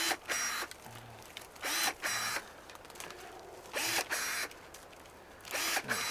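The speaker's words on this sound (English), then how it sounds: "Never thought I'd have a use for electric hand trimmer, but this DeWalt thing" A DeWalt electric hand trimmer clearing brush cuts in with repeated short buzzing bursts, about five or six, each lasting under a second, with quieter running between them, fairly close.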